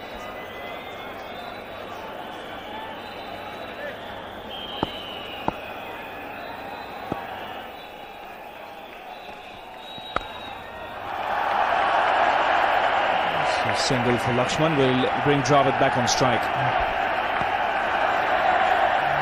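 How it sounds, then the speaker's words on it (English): Crowd roar swelling at a Mumbai Test match between India and the West Indies, rising from a quiet murmur into loud sustained cheering and whoops, with a commentator talking over the stadium. "So the crowd now beginning to get excited."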